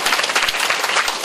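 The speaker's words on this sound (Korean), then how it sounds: "박수 치셔도 돼요." Audience applause at a parenting talk, a brief dense burst of many hands clapping together, close and loud for just over a second with no talk over it.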